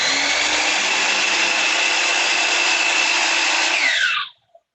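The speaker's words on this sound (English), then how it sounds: "When I make a cut on the miter saw," A miter saw cuts slowly through a wooden board with a loud, steady high-pitched whine that holds for about four seconds, then drops sharply as the blade winds down and falls silent.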